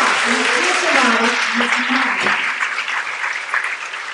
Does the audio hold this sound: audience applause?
yes